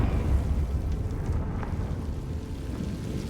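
A Confringo fire spell explodes in the Hogwarts Legacy video game, a heavy low rumbling blast that starts loud and slowly fades over a few seconds, with no voices.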